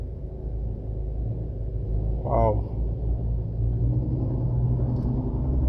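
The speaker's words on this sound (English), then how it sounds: "A garbage truck towing a garbage truck." Two garbage trucks, one towing the other, drive past as a steady low engine rumble that swells and holds, with a brief squeal midway and a voice briefly exclaiming.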